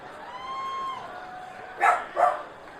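Pet dogs bark excitedly at home as their owner returns, two sharp, fairly close barks about half a second apart over a quiet room tone.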